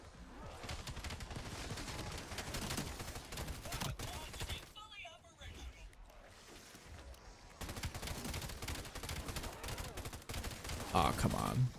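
Launcher gunfire at zombies in the Black Ops 7 zombies mode: dense, continuous bursts of shots and blasts that drop out briefly midway and then resume, loud and close.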